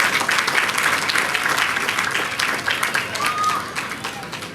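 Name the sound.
round of applause for Commissioner Jimmy O'Neill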